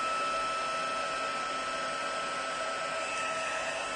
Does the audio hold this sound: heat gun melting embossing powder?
yes